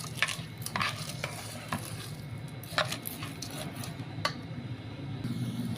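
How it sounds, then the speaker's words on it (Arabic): A spoon stirs lentils together with their cooking water in a pot for Egyptian koshari, with repeated close scraping strokes against the pot over a soft background bubbling. "العدس انا بنزل عليه بميته وافضل اشوح زي ما احنا شايفين كده"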